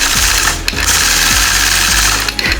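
A sewing machine running steadily at speed for free-motion quilting of scallop bumps, a loud continuous mechanical whir with repeating stitch rhythm and brief dips in pace, heard alone and up close.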